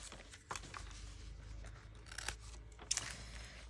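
Scissors snipping through journaling paper for an accordion garden journal, a few sharp close cuts spaced over several seconds against a low steady background hum.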